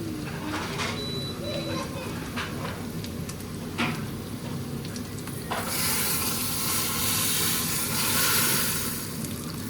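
Soft sizzling and hissing of egg-dipped food frying in a pan, growing stronger toward the end, heard beneath someone talking throughout.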